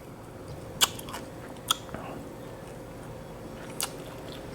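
A close mouthful of rice and dried fish (tuyo) being bitten and chewed, with a few sharp, crisp crunches spaced out against a low, steady background.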